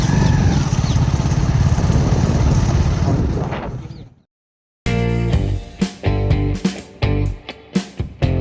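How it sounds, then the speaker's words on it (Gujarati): A motorcycle ride on a road to a Ramdev Pir temple: a steady engine drone mixed with heavy wind buffeting for about four seconds, then an abrupt cut to silence before other louder, choppier sounds take over. "બાદ અમે બાઇક લઈને જઈએ"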